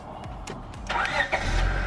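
A car engine starts via a newly installed JDi push-button start system, a few faint clicks followed by the engine catching and settling into a steady low idle, close by.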